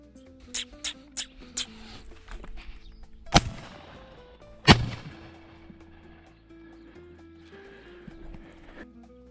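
Several loud shotgun shots crack out during thrush hunting in Moura, Portugal, two especially sharp blasts with echoing tails, after a few softer knocking sounds, outdoors with faint background noise.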